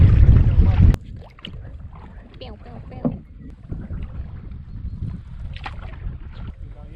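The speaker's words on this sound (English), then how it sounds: "Row, row, row your boat." Oars dip and splash as a boat is rowed in the Danube Delta, with soft knocking, after a burst of wind noise at the start; faint voices are present.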